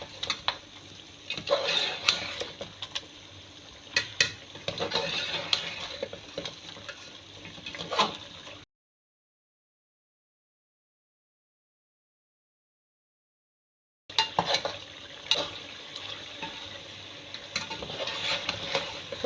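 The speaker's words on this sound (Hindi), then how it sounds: "अब इसकी होगी भुनाई थोड़ी।" Masala of salt, chilli, coriander and garam masala stir-fried for shahi korma, close sizzling with repeated spatula scrapes against the pan, cut by a stretch of silence in the middle before the frying and stirring resume.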